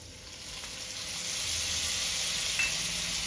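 Bitter gourd pickle with added vinegar is stirred in a hot pan, giving a steady, close hiss of sizzling oil with faint scraping of the spoon underneath.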